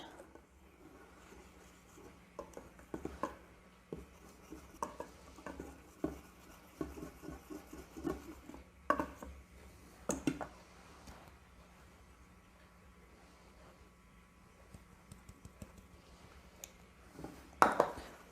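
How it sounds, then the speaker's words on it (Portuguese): A hand whisk stirs homemade cake batter slowly in a bowl, producing soft scraping and light tapping against the sides in an uneven rhythm, with a sharper clank near the end, close and quiet. "Peguei o meu fouet e agora eu vou misturando devagarinho"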